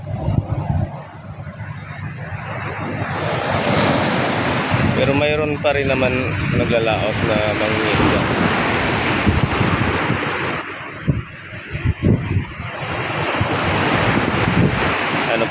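Ocean waves crash and wash continuously onto a shore, mixed with strong wind buffeting the microphone, while someone talks over the surf.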